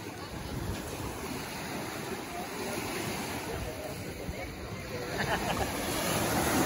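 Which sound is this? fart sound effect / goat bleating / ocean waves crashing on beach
ocean waves crashing on beach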